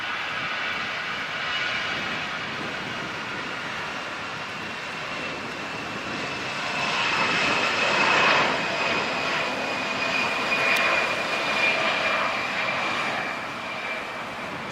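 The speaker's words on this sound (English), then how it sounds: "Let's go for a takeoff, little A319 Delta." A Delta Airbus A319 jet taking off at LAX, heard from a bridge as a steady broad engine roar that grows louder midway and then holds, with a thin whine above it.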